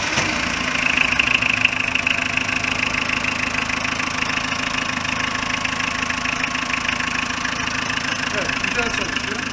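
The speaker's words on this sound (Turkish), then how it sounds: "Şimdi aracımızı bir çalıştıracağız. Size sesini dinleteceğiz." A Renault Kangoo Express 1.9 dCi diesel engine idles steadily nearby with a rhythmic clattering knock, a continuous even drone throughout with no break.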